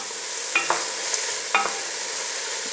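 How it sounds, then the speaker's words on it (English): An ox cheek beef stew with cloves is stirred in a pot, two distinct scraping strokes of a spoon over a soft steady simmer, close by. "let's give that all a good mix around"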